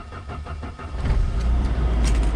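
A car engine, recently fitted with a new battery, turns over and catches, settling into a steady low idle rumble that stays loud and close until the end, with no talk.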